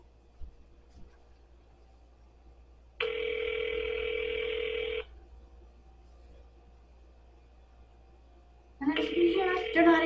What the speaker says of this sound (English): They're not answering the phone.